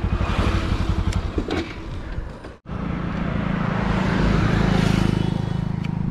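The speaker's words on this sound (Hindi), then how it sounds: "अभी मैं आपको फर्स्ट गियर की टॉप स्पीड चेक कराता हूँ अपनी NS की, फर्स्ट गियर की" A 2022 Bajaj Pulsar NS200 motorcycle accelerates hard in first gear, its engine loud and close, a steady rising drone with a brief cut-off near the middle before revving back up.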